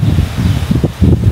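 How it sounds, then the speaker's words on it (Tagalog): Outdoor wind buffeting a microphone, loud low rumbling gusts that surge and ease in quick pulses over a brief stretch. "Mahangin."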